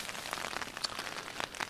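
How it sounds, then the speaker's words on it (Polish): Steady rain patters on the fabric of a tent in Norway, a dense close hiss with scattered louder drops striking the canvas throughout, no voices. "czekam, aż ten deszcz przestanie padać"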